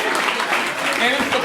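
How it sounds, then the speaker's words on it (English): Comedy club crowd at a live stand-up show claps for a teacher in the audience, a brief burst of dense applause with voices and cheers mixed in. "Let's give a round of applause."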